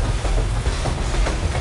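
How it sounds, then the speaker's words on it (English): A train rumbles past close by, with a steady roar and faint rhythmic clatter from the wheels. "I heard the train thing coming"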